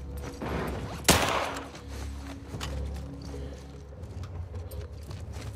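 Gunshots in The Last of Us Part 2, one sharp loud crack followed by a muffled distant rumble of further fire fading under a quiet background.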